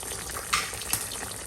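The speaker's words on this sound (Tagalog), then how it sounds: "Oh, kumukulo. Kumukulo-kulo na." Soup coming to a boil in a pot on an electric stove, a soft continuous bubbling hiss with a couple of brief louder pops, fairly quiet and without speech.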